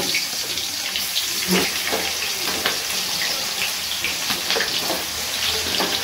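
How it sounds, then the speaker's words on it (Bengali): Chopped onions hit hot oil already seasoned with cardamom and cinnamon, giving a steady, close hiss and sizzle that runs without a break under faint background noise. "পেঁয়াজগুলো তেলের মধ্যে দিয়ে দিচ্ছি লাল করে ভেজে নেব"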